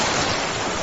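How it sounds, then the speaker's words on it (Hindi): Ocean surf washing onto a beach at night, a steady broadband roar of breaking waves with no distinct pauses, fairly loud and continuous, with some wind across it. "समंदर की आवाज और तेज होती जा रही थी।"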